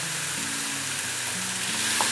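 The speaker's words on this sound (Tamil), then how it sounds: "இதுலேயே வந்து கொஞ்சம் லைட்டாக ஃப்ரை பண்ண விட்டுடலாம்." Boiled chickpeas fry in a pan with onions and a little salt, giving a steady close sizzle while a spoon stirs and scrapes through them, with no voices.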